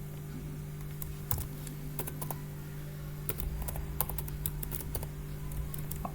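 A computer keyboard being typed on while writing JavaScript code, with sparse, clustered clicks over a steady electrical hum, quiet and close, and no voice.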